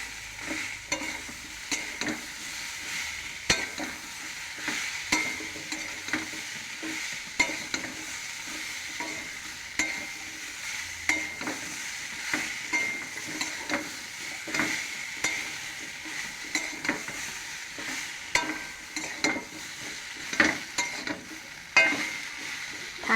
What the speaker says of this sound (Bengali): বেশি ভাজবেন না, এগুলো হালকা হালকা ভাজবেন